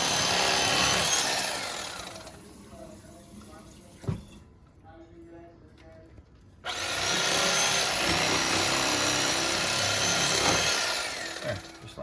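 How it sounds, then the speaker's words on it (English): A fillet knife slicing a crappie fillet away from its skin, a steady close rasping scrape that pauses briefly midway before resuming. "then you just basically start cutting the fillet off of the skin"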